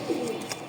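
Brief, soft cooing from a pigeon, a single low call heard close but faint against quiet background noise.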